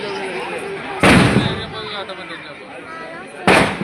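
Two sharp, loud firecracker blasts at a Karthigai Deepam festival, about two and a half seconds apart, each fading into a rumbling tail, with background noise between them.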